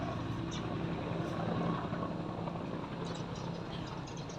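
A military helicopter circles overhead, a steady, dense rotor and engine rumble that holds at a constant level throughout, with no talk over it.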